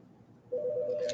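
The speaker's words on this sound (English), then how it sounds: "I'm going to ignore the phone." A telephone starts ringing partway through, a steady electronic ring tone that sits close and loud in a quiet classroom setting after a brief lull.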